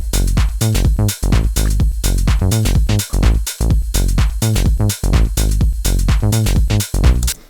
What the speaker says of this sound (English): I put an EQ on the bass line and made it a bit fatter.